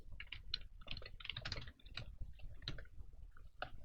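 Fingers type a command on a computer keyboard, a quick irregular run of soft clicking keystrokes close to the mic, fairly quiet and without talk.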